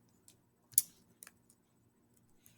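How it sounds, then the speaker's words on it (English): Light plastic keys are tapped on a calculator or keyboard, a handful of sparse, quiet clicks at uneven intervals, one a little sharper than the rest, over faint background hum. "So I'm just going to type in"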